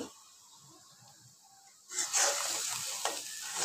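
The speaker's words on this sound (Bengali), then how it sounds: "সব একসাথে মশলাটা একটু কষিয়ে নিব।" Spices with turmeric powder hitting a hot pan to be sautéed: quiet at first, then a sudden loud sizzle bursts up and continues steadily with a few stirring scrapes.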